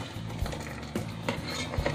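A spoon scrapes and knocks against a pot while rice porridge cooked with tilapia, ginger, broccoli, cauliflower and cabbage is mashed. It makes a few faint, soft thuds and clinks at an uneven pace, with no talking.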